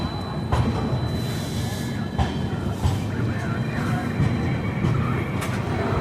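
A passenger train pulling into Lucknow Central station, with a loud continuous rumble and the clatter of wheels, and occasional sharp knocks over the steady noise.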